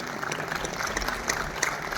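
An audience at a dance school's annual closing ceremony keeps up a continuous, even roar of applause for the performers and directors, moderately loud and unbroken.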